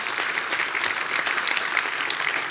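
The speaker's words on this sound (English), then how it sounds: "I think we should all give them all a round of applause." A conference audience at the NTNU Energy Transition Conference 2026 applauds the organizing committee: loud, dense, sustained clapping from a large room that holds steady from start to finish.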